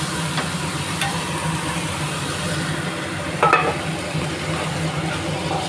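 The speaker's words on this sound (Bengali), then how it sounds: "দেখো মশলাটা আমি ভালো করে কষিয়ে নেব যতক্ষণ না তেল ছাড়ছে মশলাটা দিয়ে।" Spice paste fries in oil in a pan while being stirred, a steady moderate sizzle with occasional scraping clinks of the spoon against the pan, close by and with no talking.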